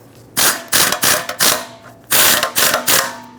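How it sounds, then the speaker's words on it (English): A pneumatic air impact gun on its lowest power setting snugs small exhaust manifold bolts on a 2012-2017 Toyota Camry, with loud, close rattling bursts in quick succession and short pauses between. "I turned my air gun all the way down on the lowest power setting so I make sure I don't over tighten them."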